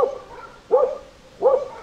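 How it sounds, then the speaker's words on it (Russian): Dogs bark in a Tajik village in Russia, with three short, fairly close barks spaced evenly apart and a quiet background between them. "собаки бегают"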